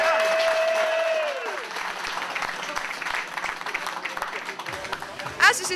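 Crowd applause for drivers receiving trophies on the podium at Lotus Cup Europe at Assen, a moderate scattered clapping under a voice talking, with a tone that fades early and a brief loud burst near the end.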